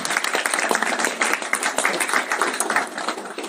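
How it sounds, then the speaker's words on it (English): An audience at a live real estate investors' event claps together, a dense steady round of applause at moderate volume sustained throughout. "Everyone give Megan a round of applause because she doesn't know what's about to happen"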